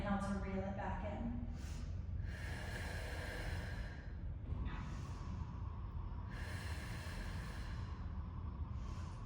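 Breath sounds during a mat Pilates exercise: steady, close exhalations and inhalations that swell in long airy waves over a constant low background.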